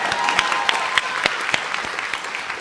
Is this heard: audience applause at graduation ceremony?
yes